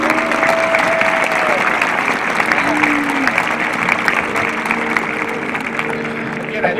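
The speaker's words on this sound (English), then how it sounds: "Let's give all these people a big round of applause." An audience at a senior awards night applauds school staff, with dense, steady clapping filling the room for several seconds and some crowd noise mixed in.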